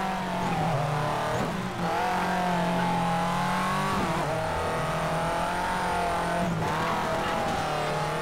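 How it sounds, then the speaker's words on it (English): A Mitsubishi Evo rally car engine in Colin McRae: DiRT, a loud, steady high-revving drone with pitch rising and dipping through gear changes, heard up close without talk. "I think I'm racing as an Evo."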